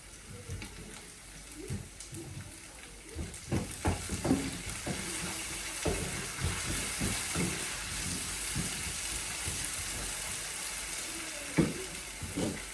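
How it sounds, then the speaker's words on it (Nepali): Potatoes sizzle steadily in a hot pan as broccoli and eggplant are added, with scraping stirs, clattering and intermittent bumps over the constant frying hiss. "पहिला चाहिँ आलुलाई फ्राई गर्नु पर्यो, अनि त्यसपछि ब्रोकौली र ब्रिन्जल लाउने"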